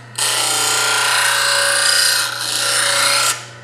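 A plane iron's primary bevel pressed against a grinder, giving a loud continuous harsh grinding rasp over a steady motor hum, with a brief dip near the end before it stops.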